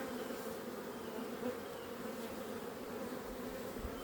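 Honeybees hum steadily in an open hive during a spring inspection, a dense, continuous close-up drone with no talk over it.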